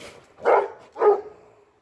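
A dog gives two loud, close barks about half a second apart, each one short and full, with quiet between them.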